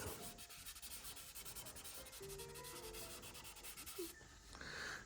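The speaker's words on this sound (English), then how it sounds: "you can get a cloth and you just rub over it lightly" A cloth rubs lightly over the painted surface of a model during weathering, a continuous close scratchy rubbing in quick repeated strokes, with no talking.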